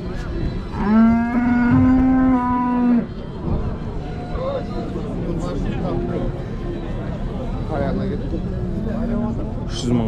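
Cattle at the Merke-Atabek livestock market in Kazakhstan: a cow gives a loud, drawn-out moo near the start, with a fainter low call later, over constant crowd chatter and bazaar noise.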